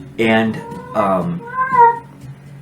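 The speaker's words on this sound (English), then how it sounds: "that's my cat" A pet cat meows indoors, giving two loud, drawn-out meows close by, then a softer, lower wavering call, with a brief word spoken.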